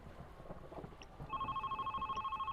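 A phone rings in the video game Red Strings Club with a steady, pulsing electronic trill that starts partway through over faint wind-like background noise.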